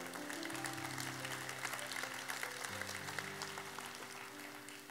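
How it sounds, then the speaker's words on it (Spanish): A church congregation claps steadily for several seconds, a dense wash of hand claps over sustained organ or keyboard tones. "Denle un aplauso al Señor."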